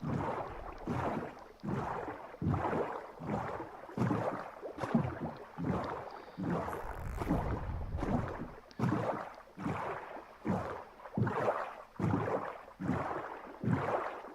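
A Minecraft boat's engine drones steadily while water rushes in rhythmic surges of wind and splash, loud and close, with no voices.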